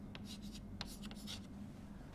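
Chalk or a marker scratches and taps across a board during a technical lecture on MESFETs. Short strokes come in quick bursts and sound faint against a low room hum, with no voices.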